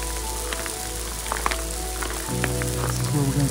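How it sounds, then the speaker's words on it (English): Hail pelts a hiker's gear on the John Muir Trail near Forrester Pass, a constant dense pattering with scattered sharper ticks of stones striking, and a low steady drone underneath that grows slightly louder toward the end. "For the second time today, I'm getting hailed on."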